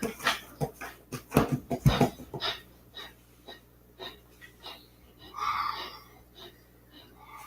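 A puppeteer imitates a puppet creature's fast breathing with rapid, breathy panting bursts, dense at first and then sparser, close and moderately loud, resembling a dog's panting.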